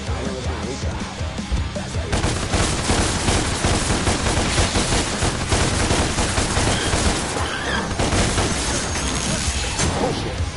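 Ebony and Ivory, a pair of high-caliber handguns in Devil May Cry Definitive Edition, fired in a loud relentless stream of rapid shots mixed with crashing combat noise for the whole stretch.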